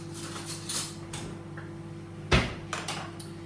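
Kitchen clatter as a bowl, knife and spoon are fetched for making stuffed jacket potatoes: a few scattered knocks and clicks, with one sharper clack of utensils near the end, close by over a quiet room hum.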